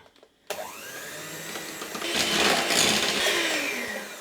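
An electric hand mixer starts abruptly and runs steadily, whirring louder as it beats 250 grams of mascarpone with 100 grams of granulated sugar for an eggless lemon cheesecake; the motor sounds close and continuous, with no talking.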